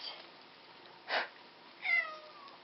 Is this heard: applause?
no